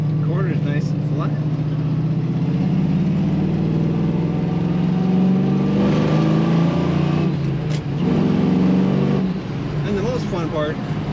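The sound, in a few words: 1978 Chevrolet Camaro Z28 engine rumble and revving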